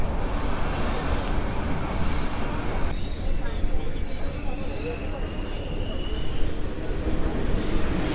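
Nellai Express pulling into Virudhunagar Junction, wheels squealing loudly and continuously against the rails with a steady heavy rumble of the moving carriages, close up.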